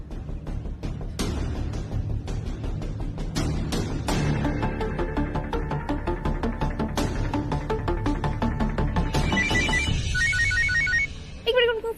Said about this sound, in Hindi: एक मिनट, फोन आ गया।